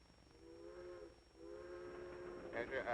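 In a 1943 black-and-white comedy, a train's whistle sounds two long, steady tones over a low rolling rumble, moderately distant and fairly soft, with a burst of noise building at the end.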